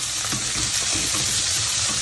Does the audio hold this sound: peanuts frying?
yes